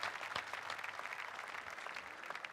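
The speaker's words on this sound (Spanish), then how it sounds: "Vamos a aplaudir a Jesucristo una vez más" A congregation at a church service claps continuously, a soft and fairly distant rustle of many hands that holds an even level throughout.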